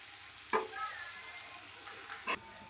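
Oil sizzles quietly in a pan over a low flame, a soft steady frying hiss with two brief sharper bursts as something is stirred or added, no talking.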